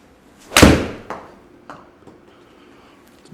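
An 8 iron strikes a golf ball on an indoor simulator, one sharp close impact followed by faint knocks and room noise, with no talk.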